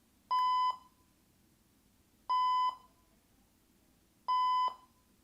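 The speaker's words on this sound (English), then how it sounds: "While it's beeping, you simply hold the button again for 5 seconds and it cancels the alarm" Medical Guardian MGMini medical alert device alarm sounding three loud, identical electronic beeps, each about half a second long, spaced evenly around two seconds apart over quiet background.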